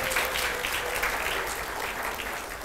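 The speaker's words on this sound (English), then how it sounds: "We give them another round of applause" A church congregation applauding its head teachers, a steady, fairly loud wash of many hands clapping at once, holding an even level throughout the short burst with no voices over it.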